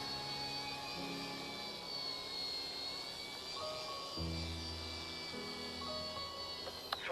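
An ERA RC A60 Bell 206 model helicopter coming in to land, a faint, steady high-pitched motor whine with shifting tones as the throttle changes.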